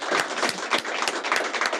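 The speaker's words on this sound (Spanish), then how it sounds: "Damos un aplauso, todo cariño y corazón a Loreta Valle." An audience applauds a speaker with a brief, steady patter of many hands clapping at moderate level, filling the room evenly without voices.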